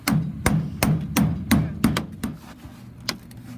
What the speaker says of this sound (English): Look, I'm pulling the dent out.